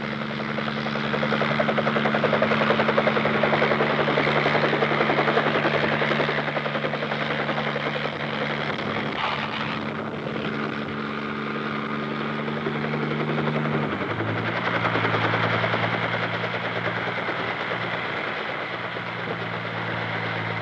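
Helicopter from the 1950s coming in for a student pilot's first solo landing in a large field, a continuous loud engine and rotor drone with steady tones that drop in pitch partway through, no voices.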